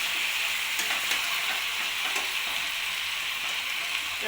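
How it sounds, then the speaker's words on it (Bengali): Chicken browning in a pan with kasuri methi for chicken kosha. A continuous, even sizzle is heard up close, with a few faint clicks of stirring. No speech. "এবার চিকেনটাকে ভালোভাবে কষিয়ে নেব।"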